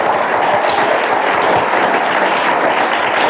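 A large audience claps hands together at a motivational speech, dense continuous applause loud and steady throughout with no talk over it.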